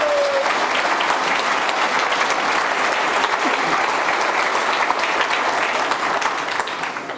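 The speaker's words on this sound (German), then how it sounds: "Deswegen kurz einen warmen Applaus und dann kann es direkt losgehen" An audience at the 29C3 hacker conference gives warm applause for the opening of a German-language talk: loud, dense, sustained clapping from a large crowd, with no voices over it.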